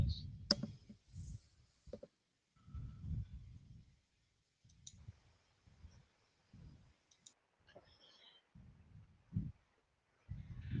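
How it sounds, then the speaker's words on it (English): Sparse bursts of keyboard typing come in short irregular clusters separated by silent pauses, close and fairly quiet, with no talking. "I'm just typing that as an issue so that it is now part of my memory."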